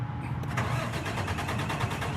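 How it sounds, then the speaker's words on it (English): A Freightliner M2 106 truck engine cranks and catches, settling into a steady, loud diesel idle throughout with no talking. "and then the truck starts."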